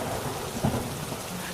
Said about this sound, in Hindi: तभी अचानक फिर से भयंकर बारिश शुरू हो जाती है।